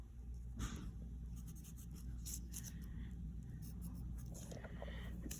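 Handwriting a physics formula for final velocity: a steady scratchy pen-on-paper stroke runs throughout with small bursts, close and fairly quiet, no talking.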